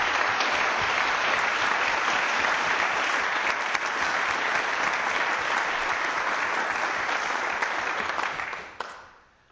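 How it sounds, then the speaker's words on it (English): An audience at a city council meeting applauds four honored community members. The steady, full clapping holds for about eight seconds and then fades out quickly, with no talk over it. "Let's give them one more round of applause."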